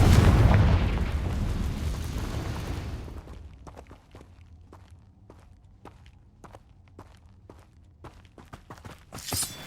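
A Confringo blasting spell explodes in Hogwarts Legacy with a loud, roaring burst that fades over about three seconds, followed by quiet, evenly spaced footsteps.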